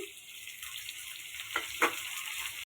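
Pumpkin and potato pieces fry in hot oil with dry red chili and whole cumin, giving a steady, close hiss with a couple of brief louder crackles.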